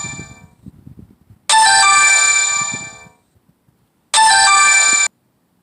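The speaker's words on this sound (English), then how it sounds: "Phone ringing." Telephone ringing in two loud, bright electronic bursts about a second long each, separated by a pause, with faint low rustling between them.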